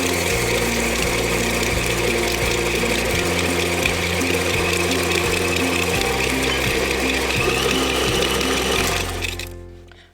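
An electric mixer beats butter and sugar into cookie dough for Easter cookies, giving a loud, steady motor whir that runs without a break for about nine seconds and then winds down and stops.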